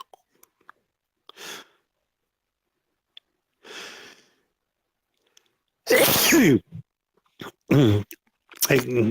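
A single sharp human sneeze bursts out near the microphone at the loudest point, preceded by a few soft breaths and clicks and followed by more short loud vocal bursts.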